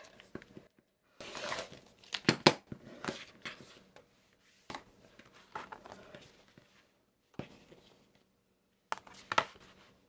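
Quilt block fabric being trimmed to 6.5 inches, with quiet scattered bursts of rotary cutting and fabric rustling against a ruler, separated by near silence.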